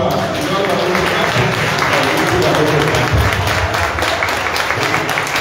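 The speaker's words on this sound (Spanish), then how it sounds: "un aplauso de nuevo para" Audience applause at a Guarani language and culture event, steady broadband clapping filling the whole stretch, loud and continuous, with crowd noise mixed in.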